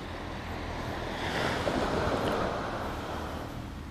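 Waves wash continuously onto the coral-fringed shore of Pasir Putih beach in Trenggalek, a loud, steady surf roar with gusting wind buffeting the microphone.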